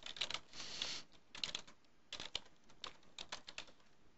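Quick bursts of clicking keystrokes on a computer keyboard come in irregular clusters with short pauses between them, close and fairly quiet, with no talking.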